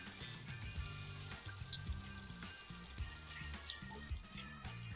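Cold tap water runs over fingers burned by hot oil, a continuous close faucet stream with small drips and splashes shifting as the hand moves under it.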